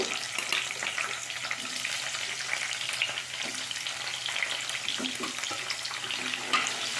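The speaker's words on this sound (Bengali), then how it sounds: "ওই তেলেতেই ক্যাপসিকামটা ভেজে নেব" Capsicum frying in the hot oil left over from frying tofu, a continuous crackling sizzle close by, steady and fairly loud with small pops scattered through it.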